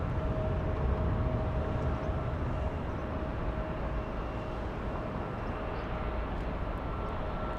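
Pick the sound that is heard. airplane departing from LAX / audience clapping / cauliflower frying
airplane departing from LAX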